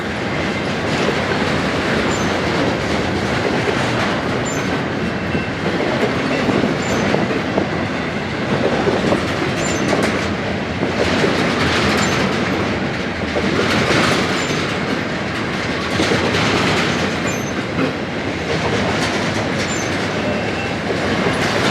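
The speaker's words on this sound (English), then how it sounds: "he must be slowing down to wait for the other train" A heavy freight train slowing down rumbles steadily past near Tehachapi, with a continuous rolling roar and faint metallic rattling, the sound staying loud and even throughout, no voices.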